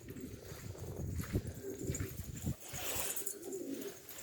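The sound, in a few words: pigeons cooing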